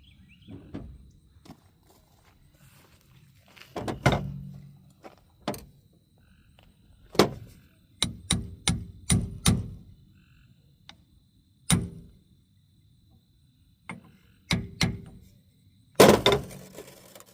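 Sharp metallic hammer taps knock a seal into a single-action hydraulic cylinder in irregular bursts, single knocks and a quick run of several in a row, close by, with quiet pauses between them.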